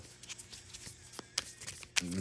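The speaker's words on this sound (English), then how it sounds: "Maybe I will just shuffle to see what shows up at the bottom of the deck" Tarot cards riffle and shuffle in a few quick bursts, crisp papery snaps close by with short pauses between them.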